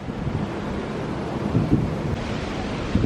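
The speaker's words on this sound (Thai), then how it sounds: "วันนี้ลมแรงนะคะ" Strong wind blows outdoors and buffets the microphone in a steady, loud, low rumbling roar with brief gusts swelling now and then; no one speaks.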